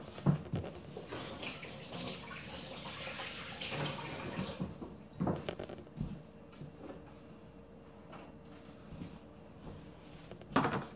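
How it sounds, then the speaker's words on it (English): Hands are washed under a running kitchen tap: a steady rush of water with occasional splashes and knocks against the sink, close by and moderately loud, with no speech. "Let me wash my hands"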